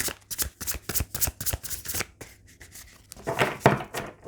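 A tarot deck is shuffled by hand in quick riffling bursts, a close, crisp run of rapid card flutters, a short pause, then another louder flurry, with no talking.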